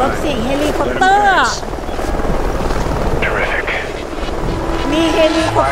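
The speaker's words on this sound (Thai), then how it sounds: "มีเฮลิคอปเตอร์ลงมาประมาณ3ลำอ่ะ" Rotor noise from about three helicopters arriving in Call of Duty: Ghosts drones steadily throughout, with voices and game sound effects layered over it.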